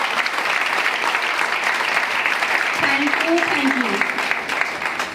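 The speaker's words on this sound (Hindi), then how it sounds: "बस सबके लिए जोरदार क्लैपिंग।" Loud, steady applause from an audience fills the space continuously, with a voice briefly speaking over it partway through before the clapping tapers slightly toward the end.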